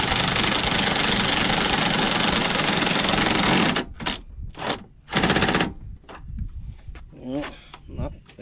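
An impact wrench hammers loudly and continuously for several seconds while tightening a bolt on a 2016 Ram 2500 truck, then stops, followed by a few short bursts and someone talking.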